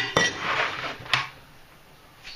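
Chopped apple pieces drop into a metal pan with two sharp knocks and a soft clatter, close and fairly quiet, no voices.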